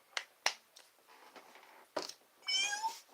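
A cat meows in several short, quiet calls with small clicks and rustles between them, ending in a longer, higher, drawn-out meow, close by and with no talking.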